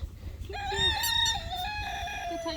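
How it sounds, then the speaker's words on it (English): A rooster crows loudly and close by, one long drawn-out cock-a-doodle-doo that rises and then trails off, heard in an outdoor farmyard setting. "that's our Charlie the rooster"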